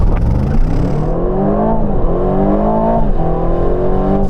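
A 2024 Aston Martin V12 Vantage, 700bhp, launches hard from a standstill with its V12 roaring loud and close, the revs climbing in steady rising sweeps through the gears.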